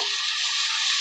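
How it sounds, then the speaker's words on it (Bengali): Mashed boiled tomato goes into potatoes frying in a pan for a vegetarian aloo dum, giving a brief, loud, steady sizzle up close. "এবার আমি দিয়ে দিচ্ছি টমেটো চটকে রেখেছি সেদ্ধ করে"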